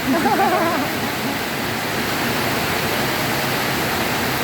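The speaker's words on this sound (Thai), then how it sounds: "ขัดสีเก่าออกพ่นสีใหม่" A spray gun hisses steadily as new paint goes onto a stripped steel door, a continuous broad rushing sound, with a brief voice at the start.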